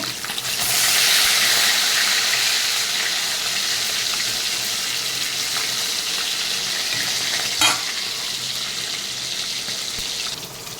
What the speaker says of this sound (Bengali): মাছটাকে আমি আলতো হাতে একদম হালকা করে ভেজে নেব, বেশি কড়া করে ভাজবো না।